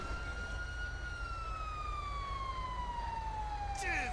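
A single wailing siren slides slowly downward in pitch, with harmonics above it and a faint background hum, on an emergency vehicle in GTA V heading to a Sandy Shores call.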